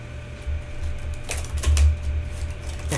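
An Ortur Laser Master Pro 2 laser cutter head slides across its frame after cutting cardboard, giving a close mechanical whirring clatter with a few sharper rattling bursts over a steady low hum.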